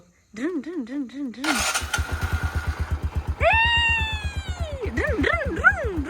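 A motorcycle engine fires up with a burst of noise and settles into a steady, rapid thumping idle, while high wavering voice-like cries sound over it before and after the start.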